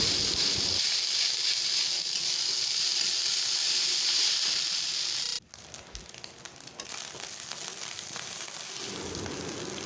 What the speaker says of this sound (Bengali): দেখো ভাতটা ভেজে নিচ্ছি কালারটা কি সুন্দর আসছে